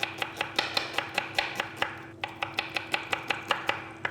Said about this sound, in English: before these things burn, I need to slice the onions